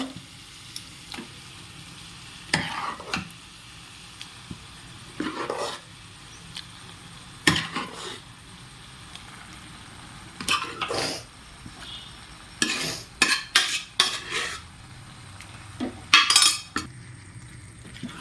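Vegetable masala for masala dosa being stirred in a pan, with irregular spoon scrapes and metallic clinks in short bursts over a faint sizzle, growing busier toward the end.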